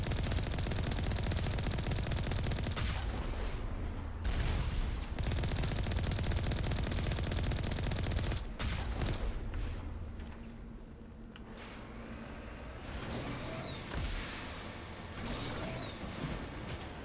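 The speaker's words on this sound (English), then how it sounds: "Shooting rockets at us" Gunfire and explosive rocket blasts from the Mass Effect video game, rapid bursts of shots rattling for several seconds before a quieter stretch with scattered blasts and mechanical noise, all moderately distant and without speech.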